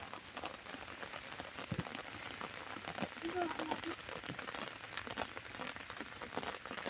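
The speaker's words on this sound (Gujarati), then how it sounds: "અત્યારે વધી રહ્યો છે વરસાદ મિત્રો" Steady rain falls over cotton fields, a soft, even patter with scattered drops, while someone talks over it throughout.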